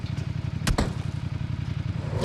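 Motorcycle engine in a mobile battle-royale game drones steadily with a pulsing, throbbing low rumble, close and loud, broken by a pair of sharp clattering hits partway through.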